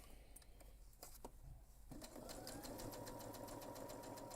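A sewing machine runs long basting stitches through the seam allowance of a backpack, starting after a few soft taps and then settling into a steady, fast rhythmic whir that keeps going to the end, close by and fairly quiet.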